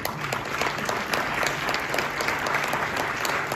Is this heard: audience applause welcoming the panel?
yes